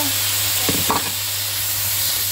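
Garlic and sauce toasting in a pan for a homemade pizza, a steady close sizzle with two brief stirring scrapes near the start.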